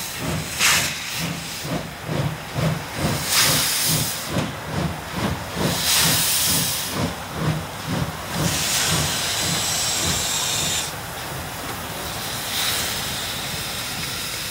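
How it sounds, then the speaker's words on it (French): A steam locomotive fresh from overhaul gives off a loud, rhythmic chuff of escaping steam with each piston stroke, about twenty evenly spaced puffs. Then a steady hiss carries on alone, with no talk. "La vapeur s'échappe du capteur à chaque coup de piston."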